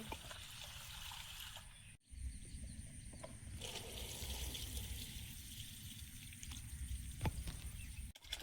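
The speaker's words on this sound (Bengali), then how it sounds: "মুগ ডাল মুসুর ডাল একসঙ্গে ধুয়ে নেব।" Mung and masoor lentils are washed together in water, a steady close trickle and slosh running almost without pause and broken by one brief silent gap.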